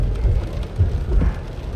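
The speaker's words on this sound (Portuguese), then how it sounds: "Só a chuva normal." Normal rain falls steadily in a street in the São Vicente neighborhood of Itajaí, a soft, even hiss with low rumbling undertones, alone and fairly faint.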